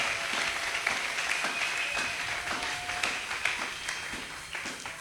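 A church congregation applauds at a worship service, a dense, sustained patter of many hands clapping at moderate volume, fairly even throughout with no speech on top.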